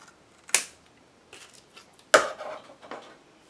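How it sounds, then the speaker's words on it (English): Two crisp scissor snips cutting excess tape on an altered-book page with an acetate window, each a sharp close click, with a few softer handling rustles between them. "I'm going to take my scissors in, just snip off that extra tape."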